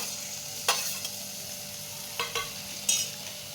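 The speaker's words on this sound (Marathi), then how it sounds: "मसाल्यांमध्ये व्यवस्थित परतायचं आहे टॉमॅटो एकदम नरम करून घ्यायचं आहे" Spices and finely chopped tomato frying in a pan, a steady close sizzle broken by several sharp scrapes of a spoon stirring against the pan.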